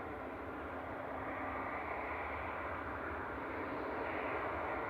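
A Qatar Airways Boeing 787-9 departs Manchester Airport, its engines a steady broad roar heard at a distance. The sound is continuous and fairly faint, with no voices.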